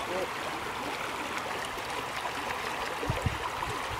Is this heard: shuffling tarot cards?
no